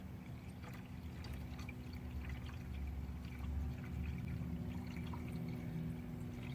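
Coolant water pouring out of a Ford Mustang's cooling system during a flush and thermostat replacement, a steady close gush with a low hum underneath, no talk.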